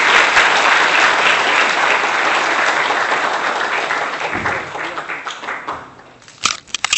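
A lecture hall audience claps after a talk, a loud, dense, sustained ovation that thins and fades near the end, leaving a few scattered claps and small knocks.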